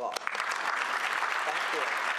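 Audience applause fills a conference hall at a Nashville African-American history and culture gathering, a dense steady clatter of many hands clapping throughout, near and loud with no talk over it.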